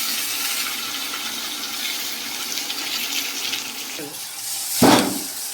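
Blended tomatoes hit a pan of frying onions in a home kitchen, a sudden loud sizzling splash near the end after a quieter stretch of low frying hiss.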